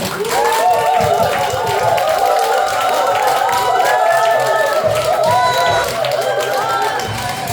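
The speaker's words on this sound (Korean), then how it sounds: "큰 박수로 모시겠습니다" A crowd at a Korean marketing lecture claps as a company president is welcomed to the stage, steady loud clapping layered with music and murmuring voices throughout.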